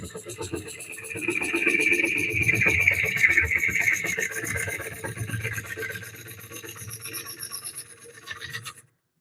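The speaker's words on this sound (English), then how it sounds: "Using this much like an aggressive scraper. Take out some of this stuff in the middle." A scraper-style tool cuts into the middle of a walnut bowl spinning on a wood lathe, giving a steady, rough scraping rasp that swells and fades over several seconds before stopping abruptly.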